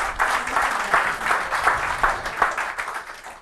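A church congregation applauding to acclaim the Lord, a steady wash of many hands clapping with faint rhythmic accents, fairly close and continuous throughout.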